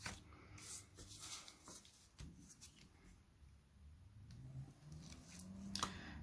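Scissors snip through red paper cut from scraps for a handmade thank-you card, a few quiet, close cuts spread over a soft tabletop background.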